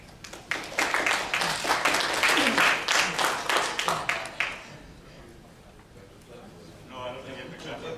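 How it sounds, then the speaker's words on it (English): A conference audience claps for a speaker at a plenary opening session, a burst of applause in the first half that fades out, followed by someone speaking. "No, I don't think you have to clap for me."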